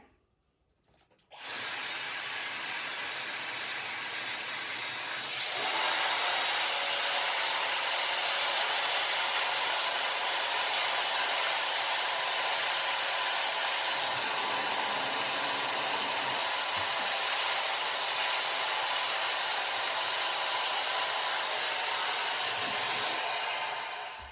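A hair dryer starts up and blows loudly and continuously, stepping up to a higher setting, while hair is blow-dried with a round brush, with faint brushing rubs underneath.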